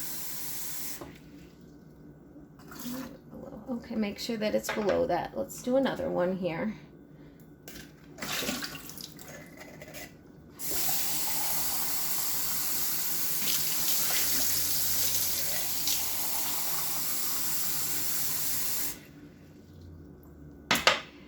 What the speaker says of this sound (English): and then I just fill it back up with the cool water.